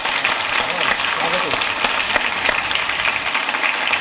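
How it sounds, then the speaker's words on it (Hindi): An audience at a political poetry debate gives continuous, dense clapping to welcome the poet Ved Thakur, mixed with a busy murmur of crowd voices. "वेद ठाकुर जी को जोरदार तालियों से आमंत्रित करिएगा"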